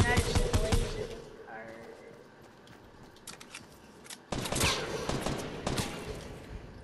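Video-game gunfire in bursts, with rapid loud volleys at the start and again after a lull, mixed with game noise and someone talking over it.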